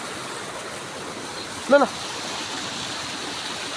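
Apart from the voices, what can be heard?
river flowing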